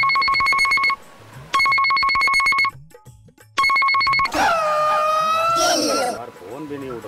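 A telephone rings unanswered in repeated bursts of steady electronic trilling with short silent gaps between them, loud and close, before a voice starts speaking over the end.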